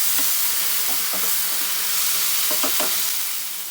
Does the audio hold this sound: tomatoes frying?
yes